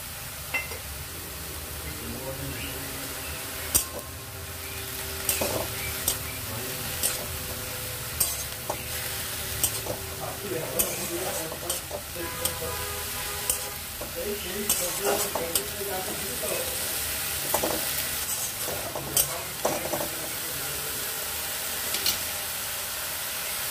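Fenugreek greens frying in a pan with a steady sizzle and hiss, while a spoon stirs and scrapes at irregular moments, with close clinks and knocks over the constant frying.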